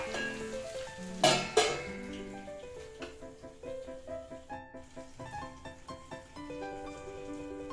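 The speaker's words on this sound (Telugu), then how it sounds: "వంకాయలు బాగా ఇలా నూనెలో బాగా మగ్గేంత వరకు ఇలానే ఫ్రై చేసేసుకొని" Eggplants frying in oil for a stuffed eggplant curry, a soft sizzle and crackle under a melodic music track, with one louder clatter near the start.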